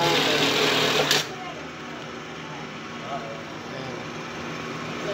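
A foot-pedal sewing machine runs a steady stitching hum at moderate loudness, with a brief louder burst near the start and background talk alongside.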